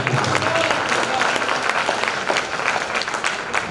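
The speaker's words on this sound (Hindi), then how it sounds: "एक बार जोरदार तालियां।" Loud, sustained applause from a large audience at a Hindi poetry event celebrating Kumar Vishwas, dense clapping filling the space steadily throughout.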